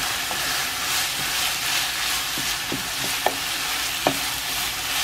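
Ground pork stir-frying in hot oil for Japanese-style gapao basil rice, a steady close sizzle with a few sharp spatula scrapes and clinks against the pan.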